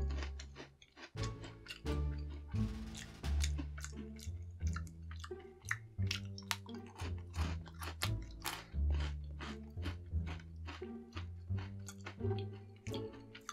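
Someone bites and chews a cookies and cream Oreo-flavoured Asian snack up close, with repeated crunchy, moist chewing sounds in an irregular rhythm.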